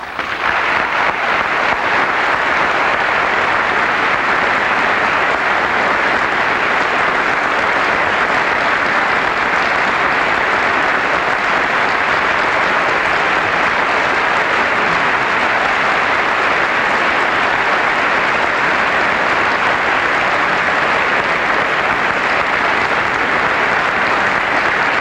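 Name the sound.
audience applause at a State of the Union address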